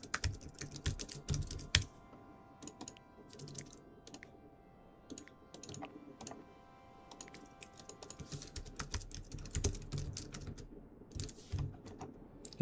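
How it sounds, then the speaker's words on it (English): Computer keyboard being typed on close to a microphone, bursts of quick clicky keystrokes with short pauses between runs, fairly quiet with no talking. "I realize my mic is picking up my keyboard tapping a lot."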